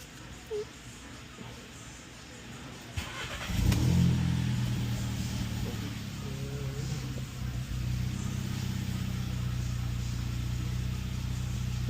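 A VW Passat with a 3.6 engine cranks and catches about a third of the way in, then settles into a loud, steady idle running close by, with only brief faint noises before it starts.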